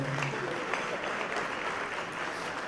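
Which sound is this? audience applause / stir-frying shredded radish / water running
audience applause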